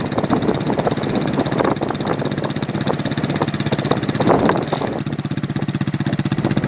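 A motorcycle engine runs loud and close as the bike pulls away, a steady mid-pitched throb with small rises in revs and a faster, even pulsing near the end.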